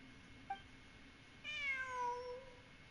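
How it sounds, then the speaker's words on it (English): A cat in Genshin Impact gives a short faint chirp, then a longer drawn-out meow that slides downward, heard quietly over a soft background hum with no speech. "It really is a cat."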